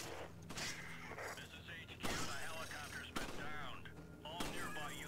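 Gunfire in the Resident Evil 5 video game, a few sharp shot bursts with mechanical clatter between them, mixed under ongoing game sound and people talking.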